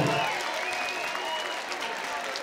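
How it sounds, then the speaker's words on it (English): A crowd at a bare-knuckle boxing event applauds two fighters after seven rounds, a steady, somewhat distant wash of clapping and crowd noise with faint voices mixed in. "I think both of these warriors deserve a huge round of applause."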